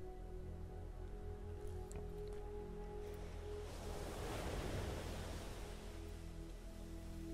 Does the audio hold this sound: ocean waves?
yes